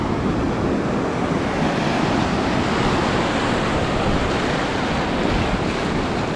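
Constant broad wash of gentle surf and wind on a La Union beach, steady and unbroken, with no distinct wave crashes standing out.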